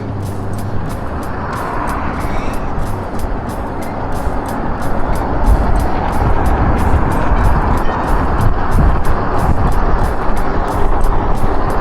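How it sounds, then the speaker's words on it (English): Heavy midday street traffic rumbles past a rider on a 72v Revv1 electric bike, with a dense, loud wash of engines and tyres and a repeating ticking pulse throughout. "got some pretty heavy traffic for the middle of the day"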